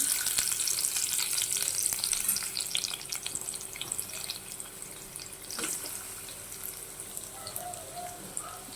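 Onion dropped into hot oil for egg rice sizzles close up, a loud hissing fry at first that settles into a softer crackle, with a few stirring clinks.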